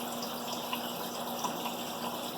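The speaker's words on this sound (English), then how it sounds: "good amount of water movement circulating in here" Water circulates steadily through an aquarium breeder box, a continuous close rushing and bubbling wash with a constant pump hum beneath and no pauses.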